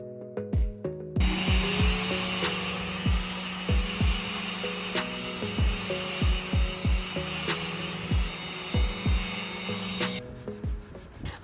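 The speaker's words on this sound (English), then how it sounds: "I had used this micro sander to get into those little details because there was a lot of stain stuck in there" An electric micro sander works over a mid-century furniture finish to lift stain from small details, a steady high whine broken by repeated rasping strokes in a regular rhythm, close and loud, then cutting off near the end.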